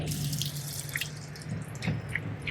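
Water running off a ceramic-coated car body and hood, dripping steadily, splashing and trickling close by with scattered droplet ticks; no voices.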